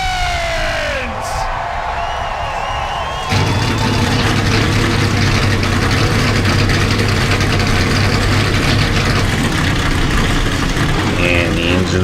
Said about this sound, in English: the engines are fired up and drivers rolling off of pit road